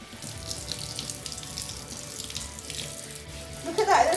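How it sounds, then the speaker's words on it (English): Running tap water pours steadily into a sink while hair dye is rinsed out, a continuous close splashing flow with no talk, rising slightly and turning more splashy in the last moment. "I'm going to wash it off."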